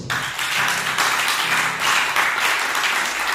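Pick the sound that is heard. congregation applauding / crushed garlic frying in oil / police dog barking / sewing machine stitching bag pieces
congregation applauding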